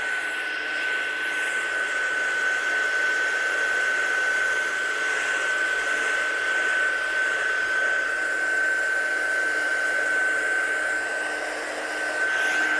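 Hair dryer blowing on wet colour to dry it, a steady, close, constant whine and rush of air that holds evenly throughout without pause.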